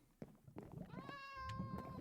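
A single cat meow in Minecraft, a short tonal cry rising and falling near the middle, faint, with a few soft taps around it.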